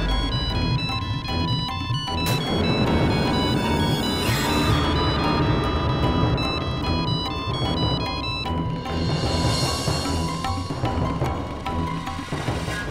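A phone ringtone plays loudly and continuously with a repeating melodic electronic pattern that keeps ringing without pause.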